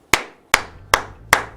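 Four sharp, evenly spaced hand claps, close and crisp, each ringing briefly before the next, with no talk.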